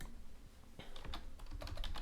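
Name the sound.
typing on a computer keyboard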